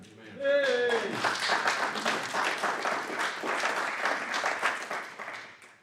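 Audience at the Okaloosa County Legislative Delegation meeting breaks into dense, sustained clapping that starts after a brief voice and continues evenly, fairly close, before tapering at the end.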